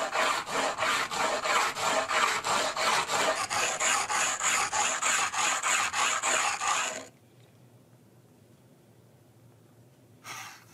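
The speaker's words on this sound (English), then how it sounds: "we sand it down until it's the right size." Rhythmic back-and-forth rasping of abrasive sanding a stone ring, fast regular strokes for several seconds, then near silence with a brief final scrape.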